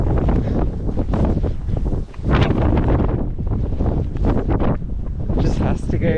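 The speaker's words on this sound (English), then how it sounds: "I don't suppose there's any hope of getting out of the wind anytime soon." Strong wind buffets the microphone while walking a coastal path in the dark, a loud, gusty roar that surges and dips throughout, with a voice talking under it.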